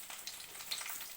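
Chicken pieces fry in oil over medium heat, giving a faint, steady sizzle with light crackling spatters and no voices.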